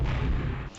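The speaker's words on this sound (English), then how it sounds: "Throw another missile at him." A single missile launch in the space-combat video game Wing Commander Privateer: a short, loud, low rumbling whoosh that fades out near the end.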